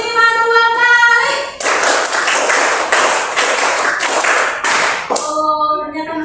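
Elementary schoolchildren in a classroom clap in unison in a counted clapping routine, a quick series of sharp, loud group claps. A teacher's voice speaks before and after it.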